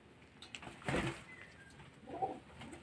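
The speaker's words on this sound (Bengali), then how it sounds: "ভিতরে পায়রাগুলো দিয়ে দিলাম জলটা। দিয়ে দিয়ে সঙ্গে সঙ্গে খাওয়া শুরু করে দিয়েছে।" Pet pigeons gather at freshly poured water inside their loft, giving a couple of soft, close coos with faint shuffling between them.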